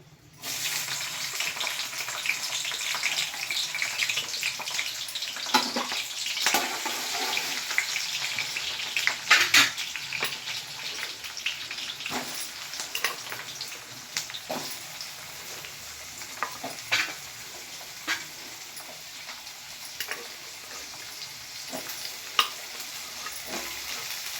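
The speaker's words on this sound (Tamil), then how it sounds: "இப்போ கொஞ்ச நேரம் வெங்காயம் வதங்கணும்" Onions fry in a pan with a continuous crackling sizzle, punctuated by scraping stirs and occasional sharp pops, steady and close throughout without speech.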